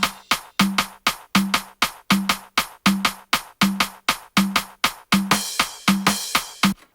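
A percussion stem from a soca beat plays crisp, evenly spaced hits with short tonal thumps in a driving repeated pattern, growing busier with brighter accents near the end.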